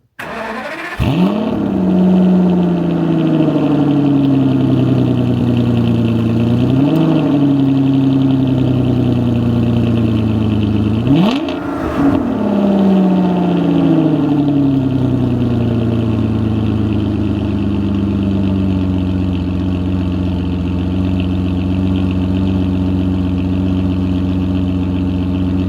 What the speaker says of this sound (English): And up fires the mighty V12, and sounds fabulous